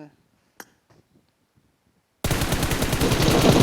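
Rapid automatic gunfire from a video game erupts suddenly after near silence and a few faint clicks, a dense, loud, continuous burst of shots running to the end.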